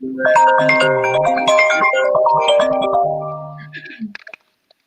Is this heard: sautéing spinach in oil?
no